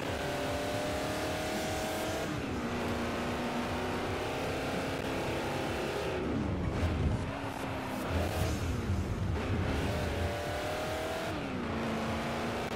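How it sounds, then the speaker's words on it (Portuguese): A race car engine in Forza Motorsport 4 on Xbox 360 roars loudly and steadily, the pitch rising through the gears and dropping at each shift, with a few rougher surges midway. "desse carro aqui é muito da hora, velho, o ronco"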